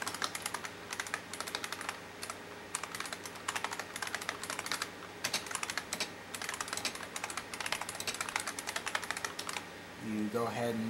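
Rapid, steady clatter of typing on a computer keyboard while installing VirtualBox on Debian, close and continuous with short pauses between bursts, and a voice speaking briefly near the end.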